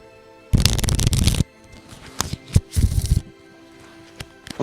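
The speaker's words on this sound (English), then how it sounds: "I love the sound of shuffling cards." Playing cards are shuffled close up, one long riffling burst followed by shorter rustling riffles and taps, with no talk.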